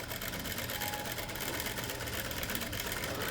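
A sewing machine stitches in reverse along a blouse seam, its steady, fast mechanical whir running loud and continuous throughout with no pauses.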